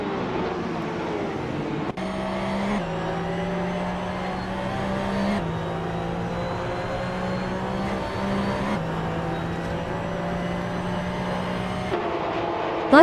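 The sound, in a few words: Porsche 991 GT3 Cup race cars in a video game race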